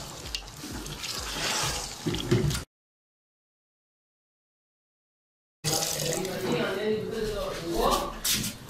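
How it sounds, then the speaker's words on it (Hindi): Two glasses of water run and splash steadily into a pot of beef while a person talks over it, broken by a stretch of silence in the middle. "अब हम इसमें 2 गिलास पानी ऐड कर देंगे।"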